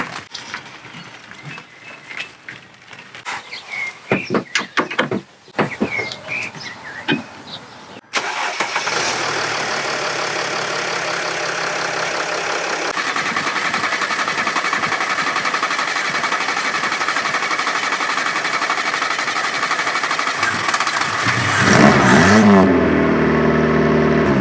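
A car engine running after being jump-started from a Mercedes, preceded by a few clicks and clunks, then a steady close idle hum that continues for about sixteen seconds and rises slightly toward the end.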